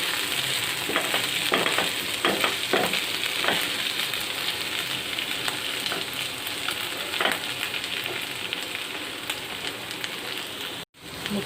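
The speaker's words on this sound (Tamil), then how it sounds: "இன்னும் கொஞ்சம் ஃப்ரை பண்ணணும். அதனால் கொஞ்சம் மிக்ஸ் பண்ணி விடுங்க." Ivy gourd slices fry in an oiled pan with a continuous dense crackling sizzle, several spoon-stirring scrapes near the start, and a brief dropout near the end.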